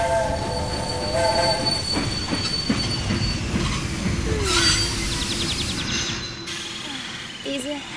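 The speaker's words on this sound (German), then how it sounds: "bis der Zug hält." A train pulls into a station and slows to a stop, with steady rumbling and clattering wheels and high squealing brakes ringing over the noise, fading toward the end, no speech.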